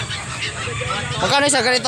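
Ducks honk and quack close by at a weekly animal market in San Carlos, Pangasinan, under a person's spoken question, growing louder near the end.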